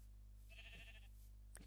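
One short, wavering sheep bleat from a video game rises clearly over a low constant hum, followed by a faint click.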